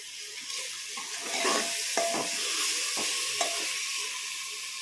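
Turmeric and coriander powder frying over a medium flame with onion paste for chole, a steady close sizzle with a few sharp spatula scrapes against the pan.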